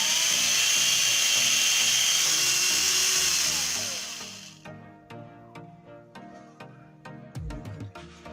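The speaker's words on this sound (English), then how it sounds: "You can see the drill machine is working smoothly." An electric drill whirs steadily at high pitch for several seconds, then spins down and stops, leaving some faint clicks and rattles.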